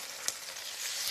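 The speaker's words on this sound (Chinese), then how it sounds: "再继续煎，每面大概煎一分钟左右" Duck pieces pan-frying in oil while being glazed with rock sugar and soy sauce, a steady close hiss of sizzling with one brief sharp spatter near the start.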